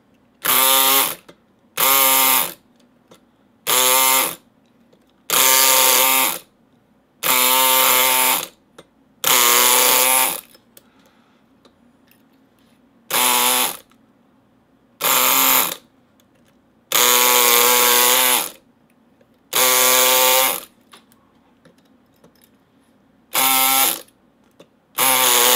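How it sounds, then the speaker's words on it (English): Chronos lock picking tool worked in a lock, heard as a string of loud, evenly spaced buzzing bursts of about a second each, close up and alone, with short quiet gaps between them. "we're going to try out the Chronos tool again"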